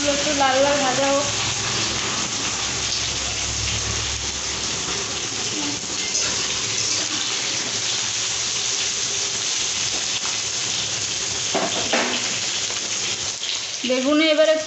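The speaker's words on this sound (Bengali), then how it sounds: "বেগুনগুলো একটু লাল লাল ভাজা হোক।" Eggplant frying in a pan with panch phoron spices, a steady loud sizzle running throughout, with brief voice-like tones at the start, near twelve seconds and at the end.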